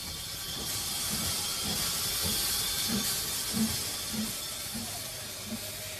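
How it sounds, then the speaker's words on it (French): Swiss-built rack-and-pinion steam locomotive of the Snowdon Mountain Railway climbing the mountain, a steady loud hiss of steam with regular low chuffs about every half second, close by and alone. "c'est une locomotive à vapeur qui a gravi la montagne"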